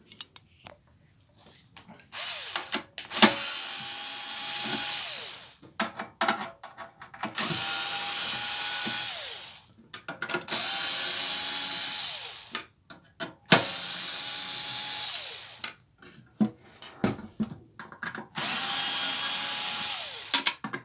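A cordless power screwdriver or ratcheting hand tool whirs in repeated bursts of a few seconds each, close up, while a car battery charger is taken apart, with brief clicks and handling noises between bursts.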